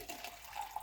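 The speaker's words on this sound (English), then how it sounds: "I'll just mix some warm water." Warm water running into a container while mixing pancake batter, a brief soft trickle and splash heard close by and fairly quiet.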